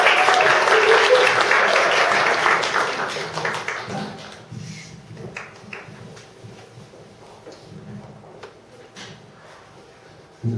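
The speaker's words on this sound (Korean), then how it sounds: "다시 큰 박수 부탁드립니다." An audience applauds warmly at a gathering, loud dense clapping for the first few seconds that fades to scattered claps and rustling, with a sharp noise at the very end.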